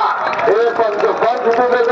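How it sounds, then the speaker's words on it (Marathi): An audience at a village wrestling ground during the Shri Mahalaxmi fair in Nandgad claps and cheers in a loud, busy wash, while an amplified voice keeps talking over the noise. "टाळ्या करा की त्या विकी चव्हाणला"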